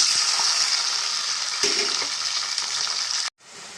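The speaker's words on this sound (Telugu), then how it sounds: "ఆయిల్ అయితే వేడైపోయిందండి దీంట్లో వేసేసుకుందాం" Onions, tomatoes and green chillies sizzle and crackle in hot oil in a pan, a steady, bright frying hiss close by. It cuts out briefly near the end before resuming.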